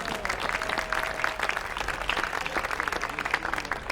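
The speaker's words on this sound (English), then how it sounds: "Please give a round of applause to our sponsors." A summer music program audience at the Festival of Arts claps steadily for sponsors, a dense, even wash of many hands sustained throughout at moderate loudness.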